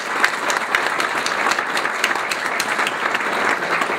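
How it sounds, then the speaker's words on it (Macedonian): An audience claps at a book launch for a work on cardiology and sport, a continuous round of mixed hand claps with sharper individual slaps standing out, steady and moderately close. "верувам дека заслужуваш огромен аплауз од сите нас заедно со доктор Оливер Војчевски"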